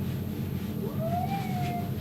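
An angry cat being groomed lets out one drawn-out rising and falling yowl over steady loud background noise.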